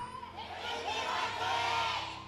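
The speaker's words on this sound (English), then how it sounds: "CJ cheer just a bit louder" Esports arena crowd cheering for CJ at the start of a League of Legends LCK Summer match against MVP, a broad sustained roar that swells steadily, distant and wash-like with no clear voices.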